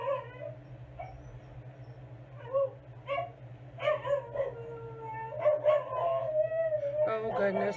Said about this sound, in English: Oh goodness, my dogs are howling.